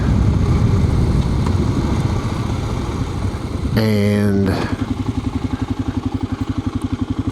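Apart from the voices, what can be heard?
motorcycle engine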